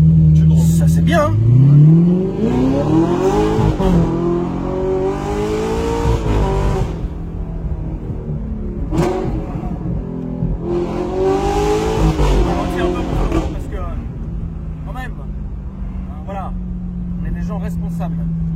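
Car fitted with a straight-pipe exhaust revs loudly in repeated swelling bursts that rise and fall, then settles to a steady idle, with voices talking over it.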